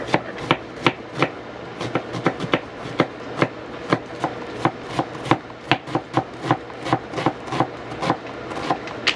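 A knife chopping onion on a board, with a steady series of crisp, close, evenly spaced knocks throughout.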